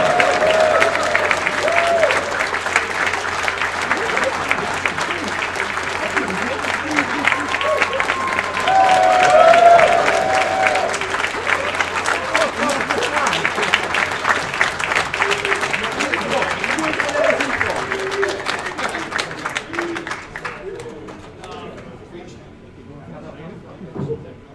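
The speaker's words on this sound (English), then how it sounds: "That was not a long enough round of applause" Audience applause for the newly crowned 2019 NAF Championship winner, a steady wash of clapping from a crowd that holds for about twenty seconds, swells briefly midway, then thins out as voices talk over it near the end.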